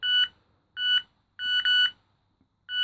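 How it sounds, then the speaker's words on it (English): A 1995 Maxon EPC590e brick mobile phone gives short, sharp electronic beeps. They repeat in a regular pattern of separate tones with one quick double beep, close and clear with near silence between them. "Suddenly the beeps have gotten louder."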